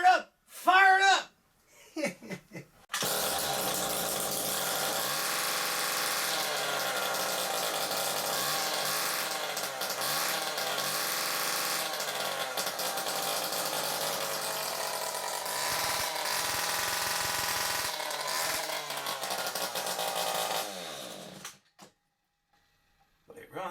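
Stihl two-stroke chainsaw with a blocked, oily exhaust running for about twenty seconds, a steady buzzing drone close by, with a voice briefly before it starts and after it stops.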